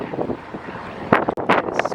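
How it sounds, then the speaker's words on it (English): Strong gusts buffet a microphone outdoors at the Epic Universe theme park construction site, producing rumbling, uneven wind noise that swells and drops in loud bursts. "It's super windy right now"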